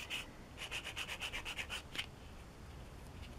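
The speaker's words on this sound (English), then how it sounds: "Get nice and parallel with the coarse sanding stick." Close, rhythmic scraping of a coarse sanding stick on plastic model-kit parts, about a dozen quick back-and-forth strokes that stop partway, leaving quiet.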